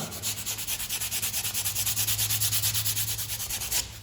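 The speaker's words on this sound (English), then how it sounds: "So you wanna take the sandpaper and you're just gonna," Sandpaper rubs over cracked, faded leather in a car interior with rapid, even back-and-forth strokes. The close, rhythmic scratching continues without pause for about four seconds and has no voices over it.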